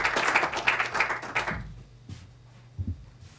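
An audience at a business management talk applauds with dense clapping that fades out after about a second and a half, leaving a few scattered thumps in a quiet room.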